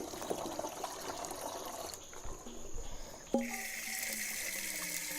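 Water poured from a collecting container into glass bottles gurgles and splashes steadily, a close, fairly quiet stream that briefly pauses and then resumes with a ringing, filling tone.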